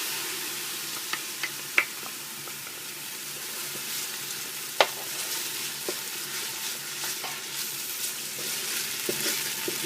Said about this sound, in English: now we're going to put in our ginger. Just stir this around for a couple minutes